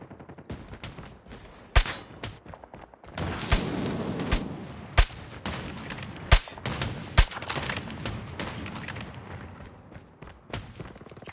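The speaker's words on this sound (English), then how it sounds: "Get down, sniper!" Sniper gunfire in the video game Control: a string of loud, sharp shots with a burst of rapid fire near the middle, over a dense rumbling game soundscape.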